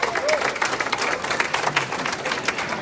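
Audience applause at the 30 Under 30 2019 awards ceremony: a dense, continuous patter of clapping from a crowd, with a voice speaking over it.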